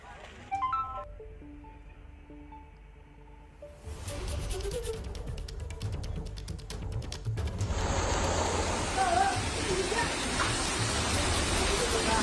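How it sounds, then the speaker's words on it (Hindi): Heavy rain pouring in Kupwara, a dense roaring hiss that swells after a few seconds of faint tones and grows louder and fuller toward the end, steady and close. "भारी बारिश हो रही है लगातार इस इलाके में"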